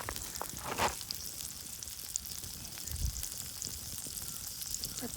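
Chicken frying in a pan gives a steady, moderate sizzle that runs throughout with no talking, broken by a couple of brief louder bursts and stirring touches.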